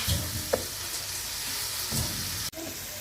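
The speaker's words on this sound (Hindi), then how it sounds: "अच्छी तरह से मिक्स करेंगे" Egg and onion frying in a pan, with a continuous close sizzle and a few scraping stirs and clatters; a brief dropout near the end interrupts the sound.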